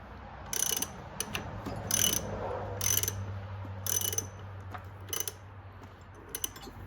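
A ratchet wrench loosening alternator bolts on a Fiat 124 Spider in a garage, bursts of quick metallic clicking in separate strokes, fairly close, over a low steady hum.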